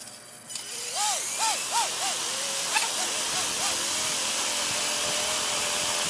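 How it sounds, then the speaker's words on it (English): A Nano CPx RC helicopter with a CNC upgrade spins up its tail rotor, giving a steady high whine with rising and falling chirps over a constant hiss, close by. "Tail rotor feels like it's spinning the right way."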